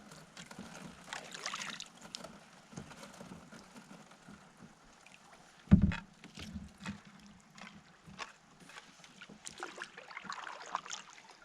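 Thin drifting ice breaking against a small boat on a loch in Glen Affric in winter, with soft scraping, crackling and knocking, one sharp louder crack midway, amid quiet water and wind.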